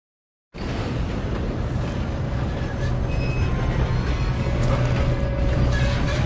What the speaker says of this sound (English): Come on, we need to stop this train.